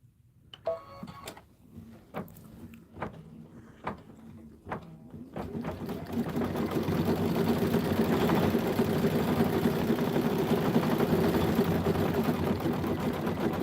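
A home sewing machine stitches a Kimberbell Save the Date design after being rethreaded, starting with a few short separate bursts and then running steadily with a loud continuous whir.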